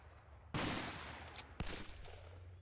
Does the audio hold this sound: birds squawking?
no